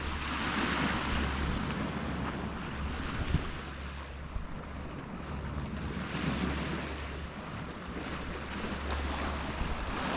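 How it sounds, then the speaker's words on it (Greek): Sea waves wash against the Santorini coast under steady gusts of wind buffeting the microphone, a continuous moderate rush with occasional soft splashes and no talk. "Ωραία θάλασσα έχει σήμερα"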